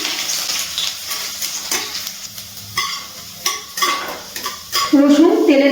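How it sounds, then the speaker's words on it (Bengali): Chopped garlic frying in hot oil while being stirred in a pan: a steady close sizzle with repeated scraping strokes of a spatula against the pan, no voices. "রসুন তেলে নাড়াচাড়া করে ভেজে নিয়েছি"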